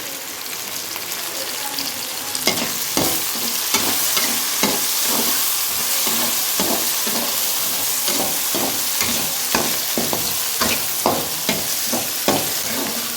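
Curry leaves and onion frying in a pan for upma, a loud continuous sizzle and crackle with regular scraping stirs of a spoon, close up and with no voices.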